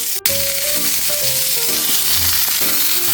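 Loud, continuous sizzling of steak in a hot frying pan, dense and hissing throughout, with a quick click at the start.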